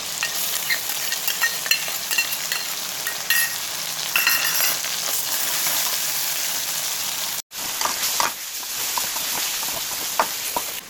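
Hot oil sizzles and fries steadily in a pan for kitchen vegetable cooking (kairi and gunda sabzi), a dense crackling hiss that briefly cuts out near the middle and then resumes with sharper spatters.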